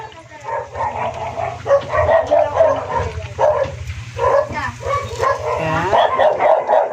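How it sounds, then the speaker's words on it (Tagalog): A pet dog barks and yips repeatedly in a home kitchen where saba banana maruya fritters are being fried, the barks loud and close, arriving in uneven bursts across the whole stretch over a steady low hum. "Wala na, nag-ingay na ng aso ko."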